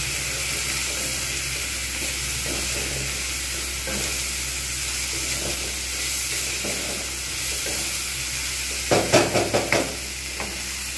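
Kochu loti (taro stolons) added to a hot pan with fried paste and cooking in a steady, continuous sizzle, with a short burst of louder crackling and stirring scrapes near the end; no talking.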